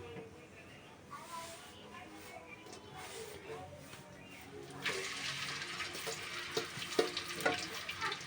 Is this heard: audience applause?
no